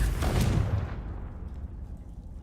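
A loud, close fiery blast from the Confringo spell in Hogwarts Legacy booms at the start, then a rumbling decay fades over the next couple of seconds.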